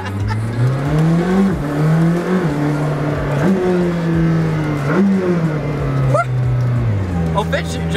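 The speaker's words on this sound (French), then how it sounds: "on va faire une petite accélération" A McLaren Senna sports car's powerful engine revs and accelerates loudly, its pitch climbing and dropping through gear changes, with a voice speaking over it.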